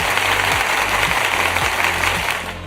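Sustained crowd applause fills a UFC arena, a broad steady roar of clapping over a repeating low drum-roll beat that fades slightly at the end.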